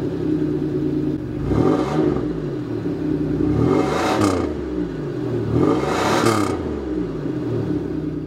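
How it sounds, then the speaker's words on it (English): A 1992 Oldsmobile Toronado Trofeo with its 3800 V6 idling steadily, punctuated by three distinct revs that swell and fall back, close and fairly loud with no talking. "let's start up the 3800 engine and hear how it sounds"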